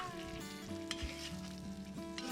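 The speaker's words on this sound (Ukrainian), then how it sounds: "М'ясо наше все підсмажилось, вже готово." Meat sizzling and frying in a cauldron for Georgian ojakhuri with potatoes, a steady close hiss and crackle with some stirring clatter throughout, no voices.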